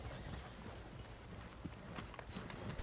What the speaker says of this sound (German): Das ist auch ein schönes Pferdchen.